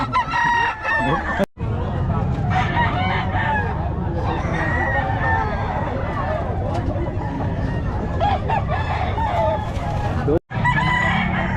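Chickens and roosters cluck and crow together at a busy market, loud and close, with a crowd and voices talking underneath.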